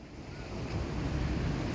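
Rough sea waves surge against a newly built breakwater during a swell surge, a loud, continuous roar of surf with heavy wind noise and no talk.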